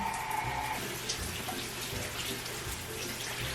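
Shower water runs steadily while curly hair is rinsed, a continuous close hiss and patter with a low splashing rumble and no talk.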